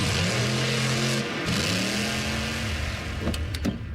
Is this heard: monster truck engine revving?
yes